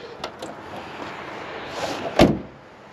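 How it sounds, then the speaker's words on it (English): The door of a 1967 Chevy Camaro convertible swings and shuts with one solid, fairly close thunk near the end, after a few small clicks and handling noises. "And see how this door shuts."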